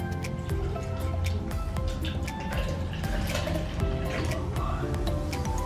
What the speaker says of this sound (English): I have enough milk, so we're gonna pour this whole thing and see where it goes